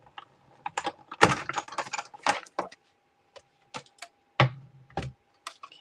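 A card inside a thick embossing folder is cranked through a die-cutting machine, giving close irregular clicks, clunks and grinding bursts with brief pauses and a faint steady hum underneath.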